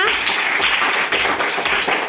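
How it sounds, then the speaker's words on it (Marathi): A group of children at a school fun day clap in a quick, uneven burst of applause, loud and close, with voices mixed in. "टाळ्या वाजवा"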